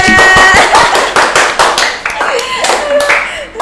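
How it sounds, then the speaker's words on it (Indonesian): Several people clap hands close by in a casual online chat session, a short burst of uneven claps mixed with cheerful voices and talking over them. "Tepuk tangan dong."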